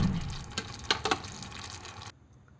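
Egg chilli sauce boiling in a pan, giving soft bubbling and liquid pops with a few sharper bursts near the middle, close and fairly quiet, stopping abruptly near the end.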